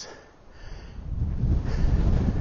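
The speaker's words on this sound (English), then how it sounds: "I hope you can hear me over the wind" Wind buffets the microphone in an English park, starting soft and building into a low, steady rumbling gust.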